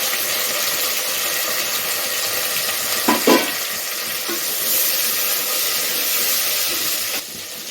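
Chopped onion and tomato sautéing in a pan for crab soup, a steady close hiss of frying with a couple of brief stirring scrapes partway through.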